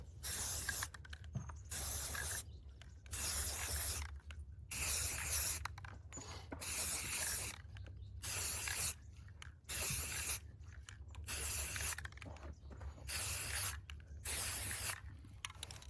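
Spray paint hisses in repeated bursts onto a rifle as brown camo is laid in between earlier passes, each spray lasting about a second with brief pauses between them, steady and close.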